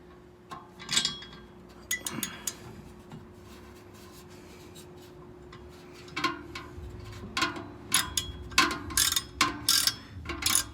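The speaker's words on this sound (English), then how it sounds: "you're gonna take an 18mm socket and finish tightening these down" An 18mm socket ratchet clicking as it tightens Mopar hitch bolts on a Jeep JL, heard in short bursts of sharp ratcheting, sparse at first and then quicker and denser, close up with no talking.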